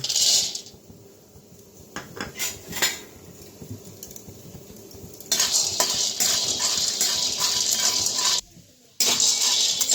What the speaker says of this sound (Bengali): তো সিম বিচিগুলো প্রথমে আমি ভেজে নেব।